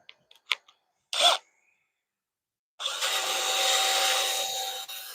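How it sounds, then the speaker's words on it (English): A few light taps and a brief scrape, then a steady, rough abrasive hiss of sandpaper on a wooden bowl spinning on a lathe that continues to the end. "But we'll start with a little sanding"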